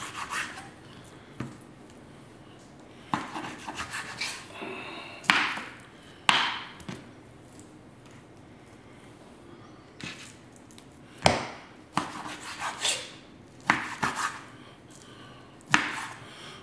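A knife cuts up beef for shredded beef tacos on a board, giving scattered scraping and chopping strokes in short bursts with quiet gaps between them, close by and with no talking.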